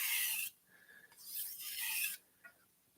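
A kitchen knife is drawn across a sharpening stone in two long rasping strokes, the first roughly half a second and the second about two-thirds of a second, with a faint click between them and no talk.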